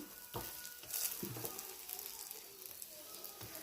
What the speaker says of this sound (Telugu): చక్కగా ఎర్రగా కాలుతుందండి